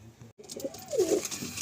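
One close pigeon from a loft of Andhra and Madrasi breeds gives a single clear, rolling coo that rises and falls within a second, over a quiet background.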